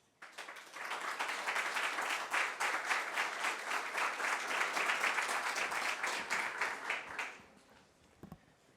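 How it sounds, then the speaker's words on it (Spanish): An audience at a Valparaíso launch event for the Kimal–Lo Aguirre project breaks into loud sustained applause for the Minister of Energy, many hands clapping steadily for about seven seconds before fading out. "Un aplauso para él."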